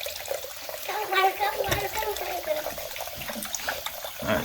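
Cold water runs from a tap with a soft splash and trickle while people talk over it.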